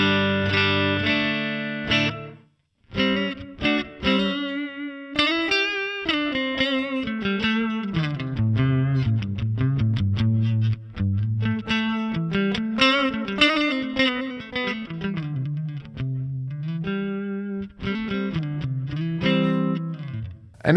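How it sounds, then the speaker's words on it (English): Distorted electric guitar through a JST Toneforge Ben Bruce amp-simulator plugin plays a melodic line of sustained notes and quick runs, soaked in reverb that lets each note ring and blur into the next. "let's put some reverb on"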